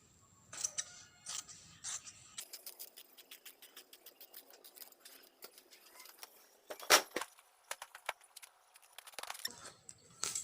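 Scissors snip through petticoat fabric during a tailoring lesson, a run of short, crisp cuts in quick rhythm with a few sharper clicks near the end, close and fairly quiet.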